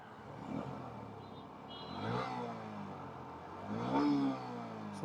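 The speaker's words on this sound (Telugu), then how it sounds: "సో ఇది ఈ మోటార్ సైకిల్ యొక్క ఎగ్జాస్ట్ నోట్." A Honda CB 125 Hornet motorcycle idles with a low, fairly quiet engine hum that swells in a few short blips of revving.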